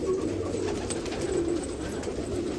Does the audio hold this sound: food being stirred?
no